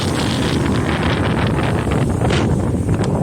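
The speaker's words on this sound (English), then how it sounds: "Windy." Strong wind buffets the microphone on an exposed mountain ridge during a hike, a loud, continuous roar with gusting surges and no talking.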